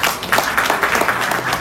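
Audience applause at a philosophy café gathering, steady dense clapping from a crowd filling the whole moment at fairly close range.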